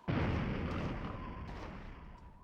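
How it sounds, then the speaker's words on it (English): Explosives detonate in the Duke Nukem: Zero Hour video game, a loud booming blast that erupts at once and rolls on as a sustained rumbling roar with scattered crackles. "I see your explosives going off"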